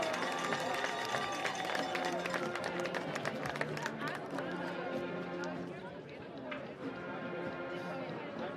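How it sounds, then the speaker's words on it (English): A football game crowd applauds the 2024 Jefferson homecoming court. The clapping and cheering is dense and continuous, with loud chatter and a public-address voice layered over it, fading slightly toward the end. "let's have another round of applause for our 2024 Jefferson homecoming court."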